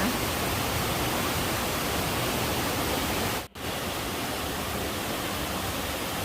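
Stream water rushing along a forest trail near Krok E-Dok waterfall, a loud continuous hiss with a brief cut near the middle, no voices.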